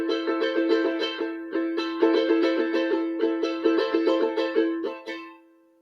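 A charango strummed in a plain down-up pattern following repique arrows, bright bunched chords in a steady rhythm for about five seconds before ringing out, close and clear with no talking.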